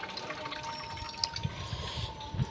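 Tap water arriving again after the supply returns, a faint uneven trickle and drip with a few soft splashes, fairly quiet and without talk.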